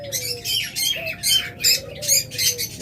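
Caged pet birds, a breeding pair for sale at a bird market, give loud, harsh squawks in a steady series of bursts, about six calls over a few seconds, close to the listener with no talk.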